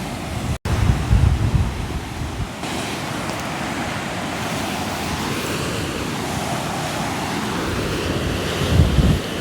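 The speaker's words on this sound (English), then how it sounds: "Now the wind is really blowing." Strong wind blows outdoors by the sea, a steady roaring rush mixed with crashing surf and gusty buffeting on the microphone, loud and continuous with no voices.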